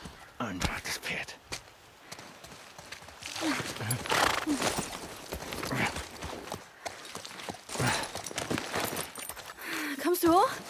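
Hooves clopping along at a steady gait with a horse whinnying now and then in the video game The Last of Us, set against busy game sounds and bursts of voices.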